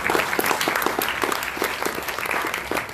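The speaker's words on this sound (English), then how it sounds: "We can clap a little bit." A small, tired audience at a World Blood Donor Day event claps steadily, a dense patter of hand claps sustained throughout, moderately loud with no voices over it.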